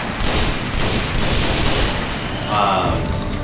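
Bursts of gunfire from a newly used gun in the video game Destiny, played as a Titan, come as loud rapid volleys with brief gaps between them.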